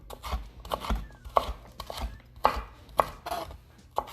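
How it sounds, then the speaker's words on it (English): A chef's knife julienne-cuts fajita vegetables into quarter-inch strips on a cutting board, making close, crisp chopping knocks in an irregular quick rhythm with sharper thuds scattered between, and no voices. "I'm gonna do about a 1/4 inch julienne on this"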